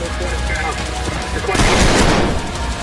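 Gunfire in the shooter Trepang2 crackles as a dense, loud burst of rapid shots, swelling midway over constant game noise.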